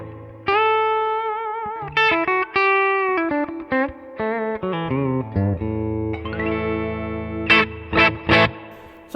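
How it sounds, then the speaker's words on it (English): An affordable Les Paul-style electric guitar plays a melodic line of sustained and quick notes with a light overdrive crunch and a wash of reverb. "So this is how the guitar sounds."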